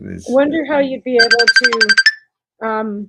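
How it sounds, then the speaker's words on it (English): A mobile phone rings loudly in a talk radio studio, a rapid repeating electronic trill of about eight pulses that cuts in between stretches of people talking. "It must be your phone because it's not mine."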